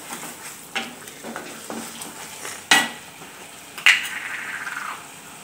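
Papaya halwa is stirred with a spoonful of ghee in a pan, with scattered spoon scrapes and clinks against metal over a soft, faint sizzle, two louder knocks standing out midway.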